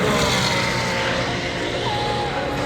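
Cadillac, Toyota and BMW race cars pass on a circuit, their engines a steady loud roar under a French commentator's voice.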